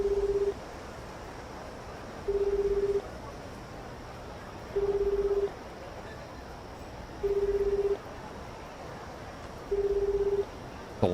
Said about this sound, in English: A long dial, long ringing